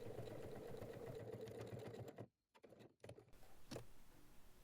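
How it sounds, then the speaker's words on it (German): Sewing machine stitching a lining onto faux leather, a steady mechanical whir running for about two seconds, then briefly stopping and restarting with short bursts. "wird das Futter dann auf das Kunstleder genäht"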